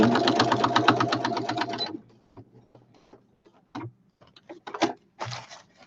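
A sewing machine runs a plain straight stitch for about two seconds in a fast, steady, even-pulsed burst, then stops, leaving a few scattered handling clicks and soft knocks.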